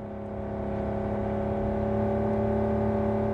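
A car in Cyberpunk 2077 drives off with a steady engine drone that swells louder as it pulls away, heard with no talking over it.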